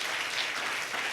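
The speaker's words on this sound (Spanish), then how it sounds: "Denle un fuerte aplauso al Señor." An evangelical church congregation breaks into a short burst of dense applause during a Spanish-language service, brief and fairly soft, with no voices over it.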